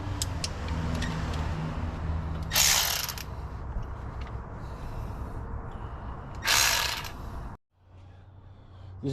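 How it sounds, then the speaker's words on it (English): A ratchet fitted with a 13mm socket working bolts on a 2006 Ram 1500 with a 4.7L engine, with two close, loud bursts of rapid clicking over a steady background hum. "you're gonna need a 13mm socket to start removing all of these bolts right here"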